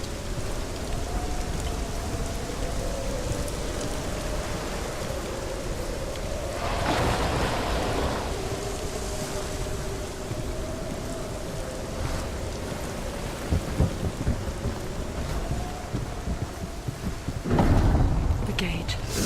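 Steady heavy rain in a Hellblade: Senua's Sacrifice storm, with rumbles of thunder swelling midway and again near the end, under a faint sustained tonal drone.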